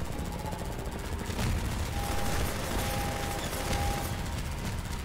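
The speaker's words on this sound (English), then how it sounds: "I'm using the gun here to provide a little bit of cover for me" Turret gun firing in the video game Defendville, a dense, steady stream of rapid shots with bursts layered over a continuous rumble of game sound, no talking.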